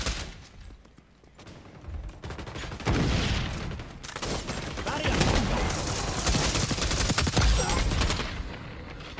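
Rapid gunfire in the first-person shooter XDefiant, loud bursts of automatic shots that build and carry on almost without a break, with a player's voice talking over the shooting.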